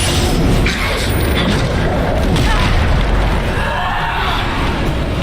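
A Bombarda explosion spell in the video game Hogwarts Legacy goes off as a loud, booming blast with rumbling low end, followed by a dense, continuous roar of spell effects and combat noise throughout.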